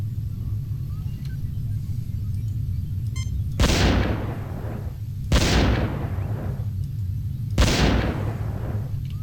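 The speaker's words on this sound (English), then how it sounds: "I can make fireworks." Three loud bursts of fireworks in the Star Trek: The 25th Anniversary video game, each a sharp bang fading into a crackling decay, spaced evenly about two seconds apart over a low steady hum.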